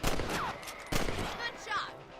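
Gunfire from the Western video game Red Dead Redemption as rabbits are shot: two sharp reports about a second apart, loud and close, ringing over game ambience and a voice talking.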